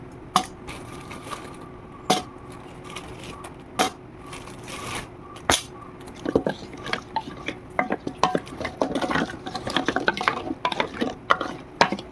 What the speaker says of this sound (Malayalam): പായസം അങ്ങനെ നേരെ അടുപ്പത്ത് കയറ്റി വെച്ചിട്ടുണ്ട് ഇനിയിപ്പോൾ നന്നായിട്ടൊന്ന് ഇളക്കി കൊടുക്കുക